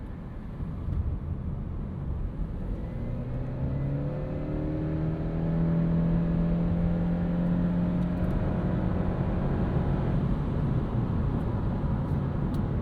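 A 2026 Subaru Crosstrek Hybrid accelerates in sport mode. Its engine and electric whir rise in steady, sweeping tones heard from inside the cabin, with no one talking.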